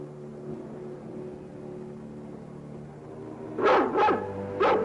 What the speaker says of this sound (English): That sounds like King's Bark.